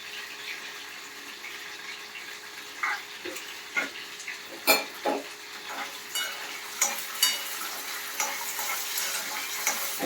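Five green chillies fry in hot oil with grated raw mango for mango pulihora, giving a steady sizzle broken by repeated scraping, clacking stirs of a spoon against the pan.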